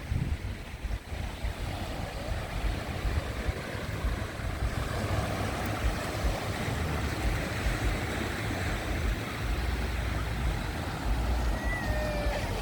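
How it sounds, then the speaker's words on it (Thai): Evening sea waves on Chao Lao beach in Thailand: a continuous wash of surf breaking and rolling in, mixed with buffeting wind noise on the microphone, steady and fairly loud throughout with no talking. "คลื่นสวยๆนะครับผม"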